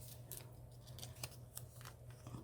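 Scissors snip washi tape to size for an epoxy resin clock, a series of close, crisp cutting clicks at an uneven rhythm over a steady low hum, with no talking.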